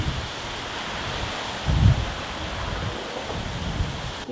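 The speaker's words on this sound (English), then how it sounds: "it's getting windy" Wind blows steadily through leaves outdoors as a hurricane approaches, a constant rushing hiss that swells briefly in one stronger gust before settling again.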